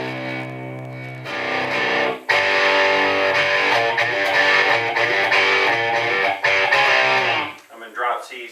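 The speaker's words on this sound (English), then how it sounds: "You can really get a nice range of distortion" A heavily distorted electric guitar in drop C tuning, played through a Studio 7 S760 tube amplifier head, plays sustained, crunchy chords up close and loud, ringing out before stopping abruptly with a brief trailing note.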